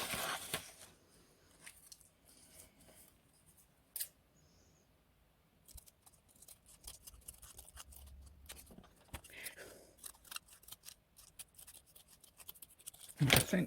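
Scissors cut paper for junk journal pages: scattered crisp snips and small handling rustles, quiet and close, spaced irregularly over about fourteen seconds, with a few louder snaps.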